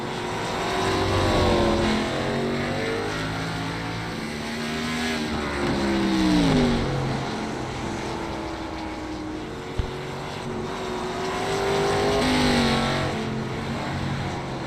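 Race cars circle an oval track in a racing video game, a loud steady engine drone with rising and falling pitch sweeps as cars pass, and a brief sharp knock partway through.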